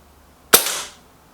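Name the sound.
airsoft sniper rifle shot, Lee Enfield or Artemis M11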